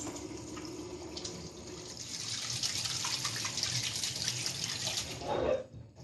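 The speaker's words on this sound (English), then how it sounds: "I am going to now wash my hands." Tap water running steadily into a sink while hands are washed in a kitchen, a continuous close splashing rush that shifts slightly near the end before stopping; no talking.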